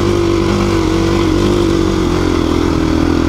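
A KTM or Beta dirt bike engine revs loud and close, a steady buzzing drone that holds high without pause.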